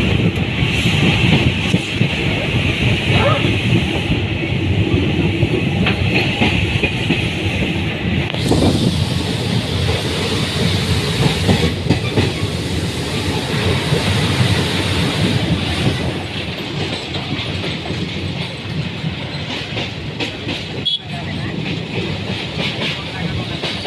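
Kanchenjunga Express passenger train rolling across a bridge, a steady loud rumble of wheels and carriage rattle with hissing air noise, continuous throughout from inside the coach.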